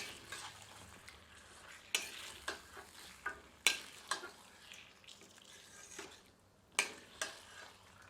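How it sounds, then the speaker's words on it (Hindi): Spiced marinated chicken stirred into frying masala in a pan sizzles softly while a spoon scrapes and clinks against the metal in a string of sharp, irregular knocks, close and fairly quiet. "अब इसमें मसालों युक्त मुर्ग सम्मिलित करते हैं। सबको अच्छी तरह मिला देते हैं।"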